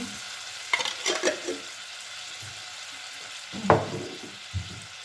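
Onion fries in a pan, overcooking toward burning: a soft background sizzle with a few scattered bursts of stirring and scraping, near and fairly quiet.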